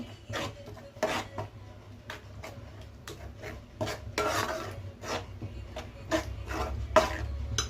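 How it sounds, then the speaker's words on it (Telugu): A spoon stirring yogurt in a bowl to make it smooth and lump-free, a series of soft rhythmic scraping strokes, close and fairly quiet. "బాగా పెరుగు అనేది బాగా గడ్డలు లేకుండా బాగా నీట్గా సాఫ్ట్గా కలుపుకోవాలి"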